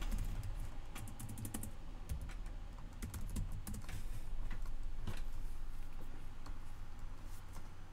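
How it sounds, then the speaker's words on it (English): Rapid clicking of a computer keyboard being typed on in a quiet room, irregular bursts of keystrokes at moderate distance with no talking. "Him and I are now typing passive-aggressive things at each other."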